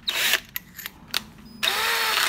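A power drill with a 13/64-inch bit bores a hole in pecan wood, whirring in short bursts, stopping and starting with a few clicks between, then spinning up again steadily at the end.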